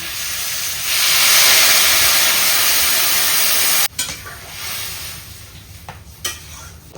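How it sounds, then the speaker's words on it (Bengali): Curry broth boiling hard in a village cooking pot, a loud continuous bubbling hiss that cuts off abruptly, followed by quieter simmering with a few clanks and knocks. "তরকারির ঝোল ফুটে গেছে"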